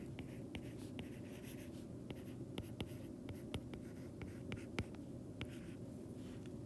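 Marker or chalk scratching across a classroom board in short strokes and taps, moderately close and steady, with no talking over it.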